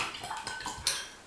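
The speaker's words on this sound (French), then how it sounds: "Alors maintenant, on va touiller." A spoon stirs a thick homemade smoothie mixture in a container, producing a few soft scraping clinks and one sharper knock of metal against the side, close and brief, without talk.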